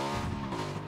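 A motorbike in the battle-royale video game PUBG revs with a brief, buzzing, tonal engine note that holds steady at close range for under a second.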